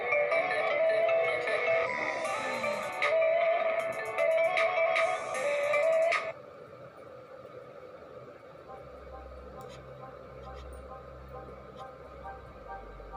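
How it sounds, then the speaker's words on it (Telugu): A Redmi Note 7 Pro plays a ringtone at full volume: a bright, melodic electronic tune with repeated short bursts, loud and close for about six seconds before it stops, leaving quiet background noise. "ఇప్పుడు రింగ్ టోన్స్లోనే సౌండ్ క్వాలిటీ చెక్ చేద్దాం"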